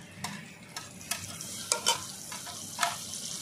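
Fried potatoes sizzle in a pan as green chillies go in, a continuous crackling hiss punctuated by several quick, close spatula scrapes and taps, no talking.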